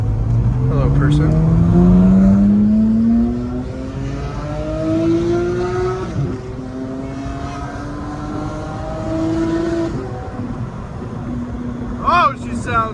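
A straight-piped Porsche GT3 revving while driving, a loud raspy engine climbing through gears with rising pitch sweeps, easing off and pulling again, with a short sharp blip near the end.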